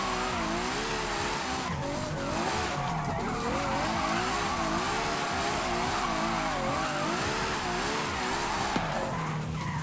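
Ferrari J50 drifting in Forza Horizon 5 on a drift suspension setup, a loud continuous engine roar under steady throttle with sustained tire squeal and skidding throughout, no talk.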